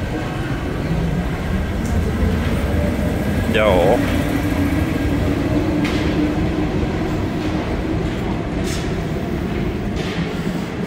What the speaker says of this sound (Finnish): Ja nyt on tämmönen vähän vanhempi metro.